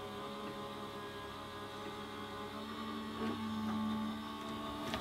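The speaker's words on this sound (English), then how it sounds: "There's a little bit of a delayed response there from the die cutting machine" A die cutting machine feeding a card through hums steadily with a low motor drone and faint whirring, close and alone, with slight swells in loudness partway through.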